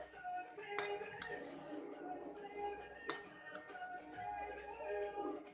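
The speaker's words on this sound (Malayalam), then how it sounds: "ഈ പാലിൽ നമുക്ക് ഈ പഞ്ചസാര ഒന്ന് മിക്സ് ചെയ്ത് വെക്കാം" A spoon stirs sugar into milk, clinking and scraping against the vessel in irregular, close, fairly quiet strokes.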